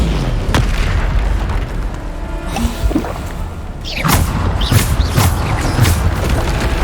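Bombarda spell blasts in Hogwarts Legacy: several heavy booming explosions with whooshes and sharp impact cracks, loud and close over a rumbling battle backdrop, recurring every second or so in the latter half.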